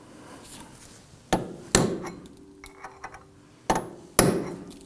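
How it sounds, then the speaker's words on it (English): Four sharp metal hammer blows dimple the lip of an axle nut into the shaft notch on a 2005-2009 Subaru Legacy rear CV axle, struck in two pairs with lighter taps between. "we're going to go ahead and dimple the edge or the lip of the nut onto that"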